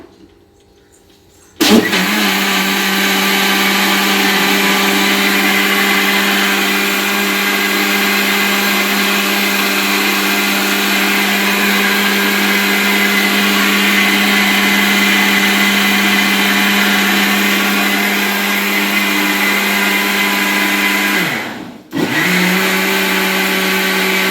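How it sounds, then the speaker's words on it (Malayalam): A mixer grinder whirs loudly and steadily while blending ice cream ingredients, starting abruptly after a brief quiet moment and dipping in a short pause before running on at full power. "നമുക്ക് എല്ലാം കൂടെ ഗ്രൈൻഡ് ചെയ്യാം"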